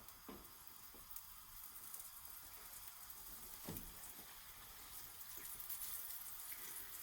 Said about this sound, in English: should hear a bit of a sizzle when it hits.